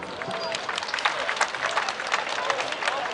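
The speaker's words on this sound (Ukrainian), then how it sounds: "Давайте за це собі подаруємо аплодисменти." An outdoor audience at a Vyshyvanka Day festival in Chernivtsi claps in a dense, sustained round of applause, loud and close, with scattered voices mixed into the crowd noise.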